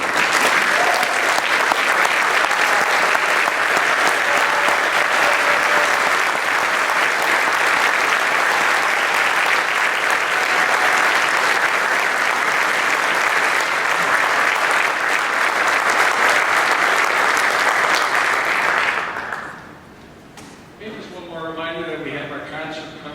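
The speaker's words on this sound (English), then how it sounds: "let's give them a big round of applause" Audience applause at a spring concert honouring four soloists, a long, steady burst of clapping from a large crowd that fades out near the end as a voice begins speaking.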